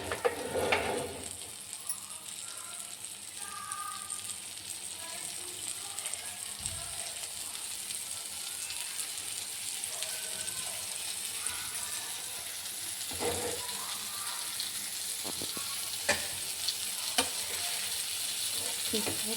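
Fish frying in oil in a pan gives a steady, close sizzle that runs without a break, with a few clicks and taps of utensils scattered through it.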